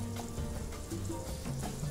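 Butter sizzles in the pan used for the vegetables, a steady close frying hiss with small crackles, heard alone and briefly.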